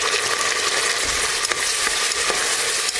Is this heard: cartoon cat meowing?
no